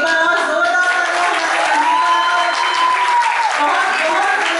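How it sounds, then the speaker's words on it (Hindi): Audience applause after a Hindi drama for Shivaji Jayanti staged by housing-society residents in Thane, a steady, dense wash of clapping and crowd noise filling the room throughout, with a sustained tone running beneath it. "एक बार और जोरदार तालियां"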